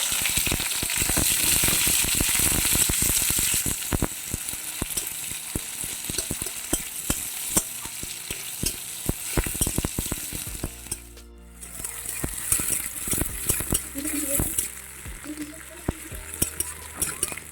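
Chopped onions hit hot oil with whole cumin in a pan and fry with a loud, dense sizzle, punctuated by frequent clanks and scrapes of stirring; the hiss dips briefly before resuming.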